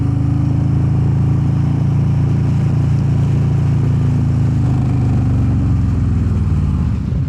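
A 2020 Harley-Davidson Low Rider S cruising on a road, its engine a loud, steady low rumble close by, holding an even drone with a slight shift in pitch near the end.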